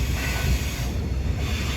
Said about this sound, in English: More coal trains. Look at the size of it. 3 big G-class on the front.